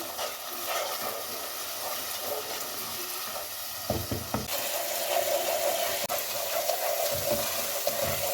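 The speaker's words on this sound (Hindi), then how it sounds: "दो से 3 मिनट तक मैंने मसाले को अच्छे तरीके से भून लिया।" Ground spices, including red chili, turmeric and pickle masala, fry in oil for dal mash fry, a moderate steady sizzle with occasional stirring scrapes, no speech.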